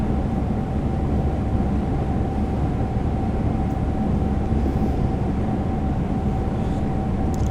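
A simulated CrossCountry passenger train runs between Exeter St Davids and Bristol Temple Meads in Train Simulator Classic, giving a loud, steady rumble with a faint constant whine held throughout and no voices.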